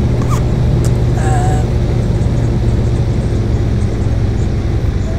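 A Dash 8 turboprop in the FSX flight simulator gives off a continuous loud, rumbly engine drone at cruise, steady throughout with only faint incidental clicks and no clear talk.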